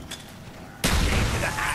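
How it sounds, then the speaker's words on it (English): Grenade exploding in a Call of Duty zombies round on the Kino map: a sudden loud, close boom breaks over game noise and scattered gunfire, followed by sustained rumbling debris, with a voice speaking around it. "Oh, grenade."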